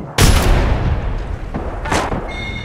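Loud gunfire in the video game Apex Legends: a sharp close report opens a sustained rumbling burst, then a second strong shot follows near the end, with no talk over it.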